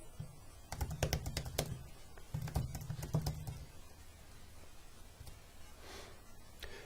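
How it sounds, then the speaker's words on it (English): Computer keys pressed in two quick bursts of crisp, close taps, each cluster of several clicks separated by a short pause, then quiet room tone with no talking. "And we can press the arrow down key also on the keyboard."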